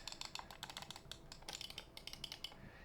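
A rapid, faint patter of light plastic clicks from the EWEADN S9 V2 gaming mouse buttons, irregular bursts of close, crisp taps with no talking.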